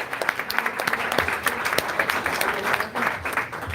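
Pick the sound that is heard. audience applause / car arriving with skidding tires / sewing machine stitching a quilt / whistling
audience applause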